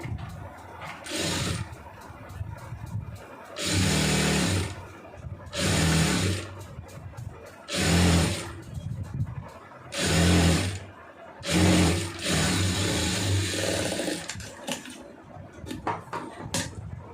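A sewing machine stitching canvas into a chudidar pant: about six bursts of steady whirring, each a couple of seconds long, separated by quieter pauses with faint handling noises, close by, with no talking.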